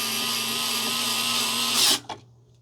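A power driver tightens the screw on a Leviton single-pole light switch, a steady high whir for nearly two seconds that rises briefly and then cuts off, followed by a short click.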